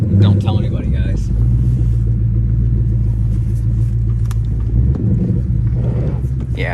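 A custom-painted 2012 Ford Mustang with an Aluminator-swapped Coyote 5.0 V8 cold starting, then settling into a loud, steady, deep idle rumble that fills the whole stretch, with voices heard over the engine.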